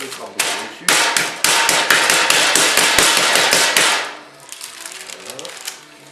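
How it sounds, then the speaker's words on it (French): Butter being pounded and squashed flat onto croissant dough: a rapid series of loud, close slaps and thuds for about four seconds, then quieter scattered taps. "On prend le beurre, on l'écrabouille dessus."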